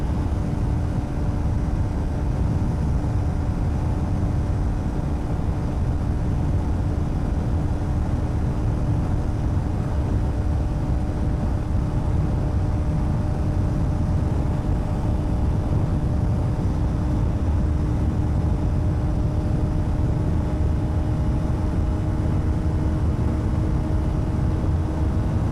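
A KTM Duke 250 motorcycle pulls steadily in sixth gear at high road speed, its engine drone blending with heavy wind rush in a loud, continuous, unbroken roar that holds evenly throughout.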